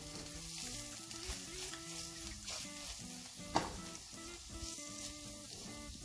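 Spice masala with red chili powder and coriander-cumin powder frying and being stirred in a pan, a steady close sizzle with occasional scrapes and one sharp clink of a utensil, under faint background music.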